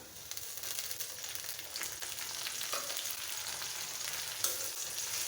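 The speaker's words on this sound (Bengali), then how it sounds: "পেঁয়াজ বাটাটা ভালোভাবে ভেজে নেব।" Onion paste frying in oil in a pan for a Ramadan chickpea dish, a constant close crackling sizzle with faint stirring scrapes and a single sharp tap near the end.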